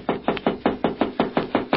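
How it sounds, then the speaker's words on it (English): Knocking on a door in an old radio drama, a firm run of about nine evenly spaced raps, close and loud, with no speech over them. "Now, I'll knock."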